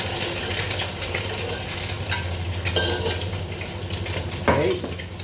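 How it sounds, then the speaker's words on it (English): Beaten eggs hit a hot oiled wok while making Chinese fried rice, setting off a loud, steady sizzle and crackle with scraping and stirring clatter throughout, close up and without talk. "once the oil is hot, your wok is hot, you pour in your eggs."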